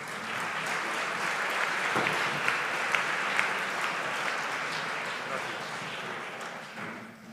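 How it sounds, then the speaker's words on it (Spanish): A crowd at an award ceremony applauds steadily, a dense wash of clapping that holds for several seconds before tapering off at the end. "Un aplauso."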